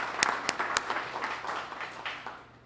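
Press-conference audience clapping for the participating restaurant representatives at a Restaurant Week event, a brief moderate burst of hand claps with a few sharp louder claps early on, fading within a few seconds.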